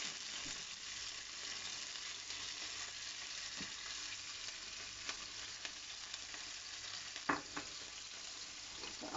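Steak searing in a pan with olive oil and thyme, a steady close sizzle and crackle throughout with a few sharper pops and spits near the end.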